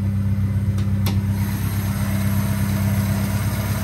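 A car engine idles steadily on its stock intake, a continuous low rumble close by with no talking over it.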